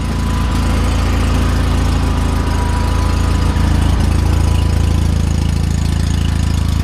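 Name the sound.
small gas engine idling after start-up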